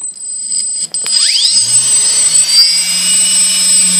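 A MagLev hover disk spins up over a copper plate, giving a loud, rising high-pitched whine that settles into a steady tone with a low hum beneath.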